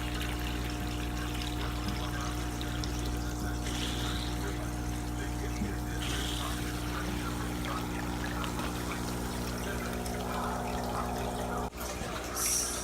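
Water pumped by hand through a vacuum tube from the bottom of a tank into a bucket, a steady trickling and pouring flow over a constant low hum, close and fairly quiet.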